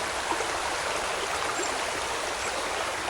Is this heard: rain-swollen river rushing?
yes